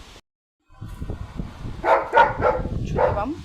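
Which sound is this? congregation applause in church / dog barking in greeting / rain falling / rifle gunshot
dog barking in greeting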